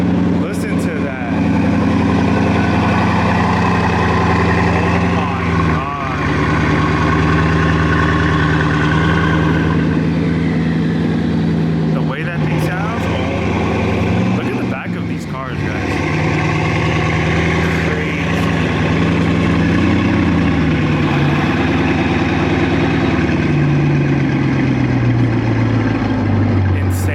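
A Bugatti Chiron engine idles close by with a deep, steady rumble, its tone shifting slightly as the car is repositioned, with other engine noise in the background.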